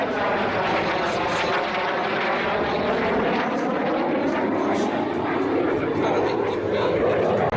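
An Impala jet training aircraft in flight gives a loud, continuous roaring drone that holds steady throughout, with a voice speaking over it.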